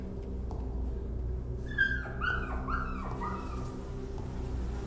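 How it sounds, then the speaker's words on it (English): A dog in the horror game Rewind Or Die gives a few short, high whimpering yips under a steady low background hum, moderately close and without talking. "It's the dog."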